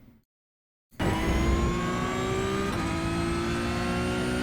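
A Porsche GT3 Cup 992.1 race car in iRacing, on the Circuit of the Americas track, holds full throttle after a moment of silence, its engine snarling loud and steady as the revs climb, shift once and keep rising.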